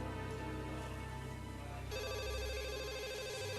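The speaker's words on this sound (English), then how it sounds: "That's the phone call that you've probably been waiting for." A telephone rings insistently and loudly throughout, its repeated electronic trill clear and close, with the tone shifting partway through and no voices over it.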